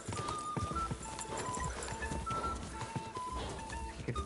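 A horse's hooves in Kingdom Come Deliverance 2 clop along in a quick, steady rhythm, close and clear, with faint tonal game sounds running beneath.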